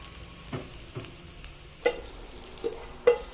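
Tamarind and asafoetida frying gently in a hot pan's leftover heat, a faint low sizzle broken by a few soft stirring scrapes and light taps, close and quiet.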